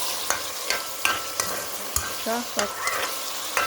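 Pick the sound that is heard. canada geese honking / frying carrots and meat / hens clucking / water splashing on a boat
frying carrots and meat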